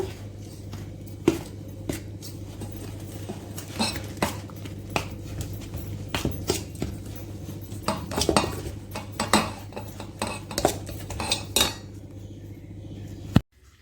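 A sweet peanut mixture is stirred in a pot, with repeated metal spoon scrapes and clinks against the pan in an uneven rhythm over a steady low hum, ending abruptly.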